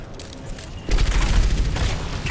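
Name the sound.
sniper gunfire in a video game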